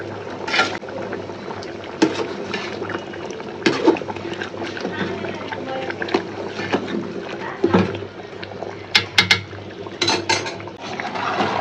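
A spoon stirs cardamom pods, cinnamon sticks and bay leaves in a cooking pot, giving scattered scraping clinks and knocks against the metal, with a steady hum of background noise.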